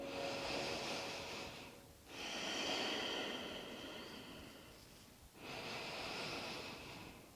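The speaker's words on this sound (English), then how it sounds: "Take a nice deep breath all the way in. Exhale. 2 more deep breaths." Slow deep breaths during a stretching routine, each long airy inhale and exhale close to the mic, separated by two brief pauses; soft, breathy and unhurried, no speech.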